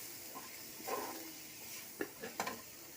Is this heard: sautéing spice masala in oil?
yes